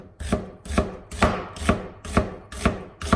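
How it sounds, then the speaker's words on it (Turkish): Two onions are sliced into rings with a knife on a cutting board, giving seven crisp, evenly spaced chops in a steady rhythm, close up with no talk. "2 adet soğanım var. Bunları halka halka doğruyorum."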